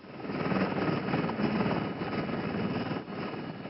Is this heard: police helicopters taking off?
yes